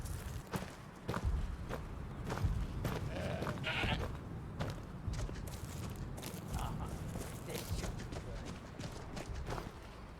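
Goat bleats mixed with hoof and footstep sounds in Skyrim, heard amid continuous ambient game noise.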